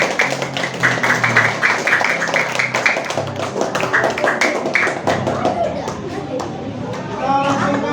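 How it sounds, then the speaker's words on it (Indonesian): Classroom students clapping for a presenting group, a brisk uneven patter of many hands with chatter and voices mixed throughout, close and fairly loud. "kita beri tepuk tangan untuk kelompok 2."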